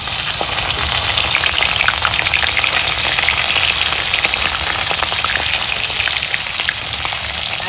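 Fish frying in hot oil gives a loud, steady, dense crackling sizzle that holds without a break throughout.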